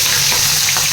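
Spiced fish sizzling steadily in hot oil, a dense continuous frying hiss with no pauses, close and fairly loud, no voices.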